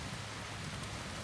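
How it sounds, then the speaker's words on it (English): Steady rain from a storm hisses evenly throughout at low volume, with a faint low rumble underneath; no distinct thunderclap stands out. "it's currently raining now, and it's thundering like mad out."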